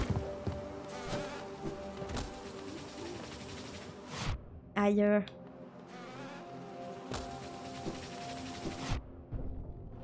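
Bees buzzing in the Hollow Knight video game, a steady insect drone over game music and effects, with a brief louder burst near the middle; a man makes short exclamations.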